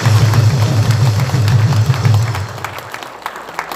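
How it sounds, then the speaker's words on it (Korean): A crowd at a political rally in Korea breaks into applause, dense rhythmic clapping that rolls strongly for a couple of seconds and then thins out and fades. "박수 한번"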